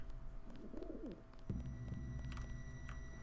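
Pigeons coo softly in the video game Deus Ex, a short warbling burst followed by a low steady murmur under faint ambient game sounds.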